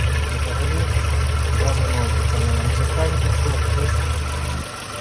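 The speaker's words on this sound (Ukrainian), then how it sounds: "мотор рівно працює" A Dacia Logan 1.6 engine running on gas and petrol idles steadily with a low, even rumble, loud and close, before dropping off abruptly near the end.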